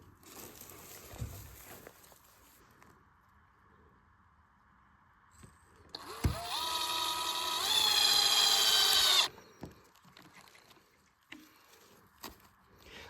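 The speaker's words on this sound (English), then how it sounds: "How well that drives with a drill driver." A drill driver runs for about three seconds as it drives a fastener into the wood of a tent platform, a loud, steady whine that rises in pitch, with quieter tool handling, knocks and clicks before and after.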